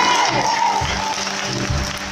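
A church congregation applauding together in a dense, steady clatter of clapping that lasts the whole moment, with some voices mixed in.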